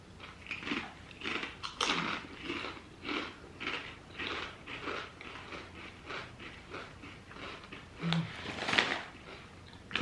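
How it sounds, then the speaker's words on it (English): Kettle-cooked sea salt potato chips crunch in repeated bites, a close, rhythmic series of crisp snaps spread through the stretch with small pauses between chews. "That's a nice crunch."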